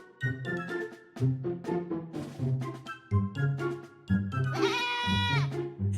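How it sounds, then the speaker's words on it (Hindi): Sheep bleat repeatedly in wavering, nasal calls, several overlapping voices close by, with one higher, louder cry near the end. "एक दिन वो जंगल में भेड़ चरा रहा था"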